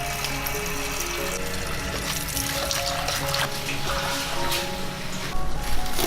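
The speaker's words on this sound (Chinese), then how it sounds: "这个时候呢，我们来洗一把紫苏" Running water from a tap pours steadily over a handful of perilla leaves being rinsed, a close continuous splashing with slight shifts as the leaves are moved, a little louder near the end.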